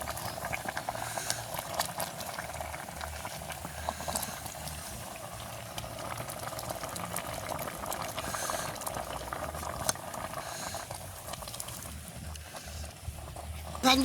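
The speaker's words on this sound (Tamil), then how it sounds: "உங்களுக்கு இப்போ அங்கே அடுப்பில் சோறு அவிஞ்சு கொண்டு இருக்குது" Rice boiling in a covered pot on a village stove, giving a continuous soft bubbling and simmering close by, fairly quiet and unbroken throughout.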